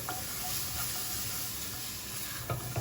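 Curry powder and turmeric sizzle in a hot pan, a dense steady hiss that fills the whole stretch, with a few faint stirring scrapes near the end, close and alone.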